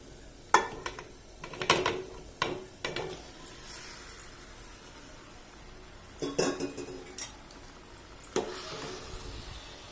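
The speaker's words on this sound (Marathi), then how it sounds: "आता त्याच्यामध्ये आपण ना ही कोळंबी आहे ना ती घालून घेऊ." Raw prawns go into a pan of fried masala for a home-cooked Konkani-style seafood meal, giving a few sharp clinks and scrapes of utensil on metal pan, then scattered stirring knocks, close and moderately loud with no talk.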